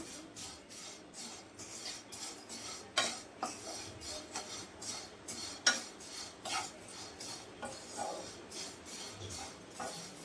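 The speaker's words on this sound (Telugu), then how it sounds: "ఒక పక్కన పాలు కాగుతూ ఉంటే ఇంకో పక్కన సేమియా అయితే వేస్తున్నాను." Vermicelli being added and stirred in a pan on the stove, with irregular metallic clinks and scrapes of a spoon against the pan, close and quiet, and no speech.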